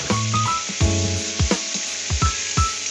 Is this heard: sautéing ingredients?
yes